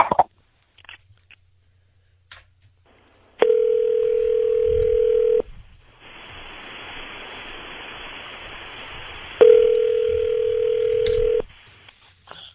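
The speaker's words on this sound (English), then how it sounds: "Here we're dialing him now." A phone call is being placed: two loud, steady ringback tones of about two seconds each are separated by a pause of faint line hiss, with a few small clicks before them.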